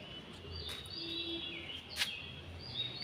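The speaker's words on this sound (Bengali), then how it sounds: "আর এই যে পাখির কিচিমিচির ডাক শুনতে খুবই ভালো লাগছে এই মর্নিং টাইমে" Faint birds chirp in the distance in the morning at a rooftop garden after a storm, a few thin high calls and short tweets over quiet outdoor background noise.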